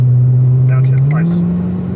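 A 2019 Corvette ZR1 engine on the Spring Mountain track, a loud steady low drone that steps up slightly in pitch midway, with someone talking over it.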